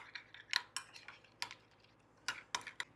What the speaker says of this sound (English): I'm going to put in just a little bit of honey. And we're going to stir it around.